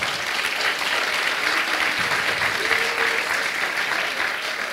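A crowd at a European political event applauds steadily throughout, a dense continuous wash of many hands clapping at close range with no voices standing out.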